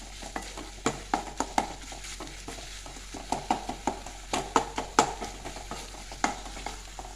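Onions and tomatoes cook in a pan with a steady sizzle, broken by repeated sharp scraping clicks of a spoon stirring against the metal, close up with no talking.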